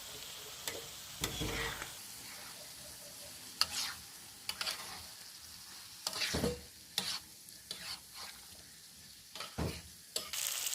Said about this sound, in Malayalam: നല്ലതായിട്ട് ഇളക്കി ഇതിനെ നമുക്ക് റോസ്റ്റാക്കി എടുക്കാം